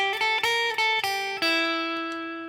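Electric guitar playing a minor pentatonic blues lick with a blue note, a quick run of plucked notes stepping up a half step then working back down, ending on a sustained ringing note that fades out alone.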